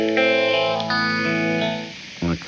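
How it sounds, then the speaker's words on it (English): Electric guitar played through an old vintage phaser pedal, sustained chords sweeping and swirling with a shimmering chorus-like modulation, loud and close, ending with a short plucked burst. "I'll let you hear the difference and then we'll play around with it. So, old phaser first."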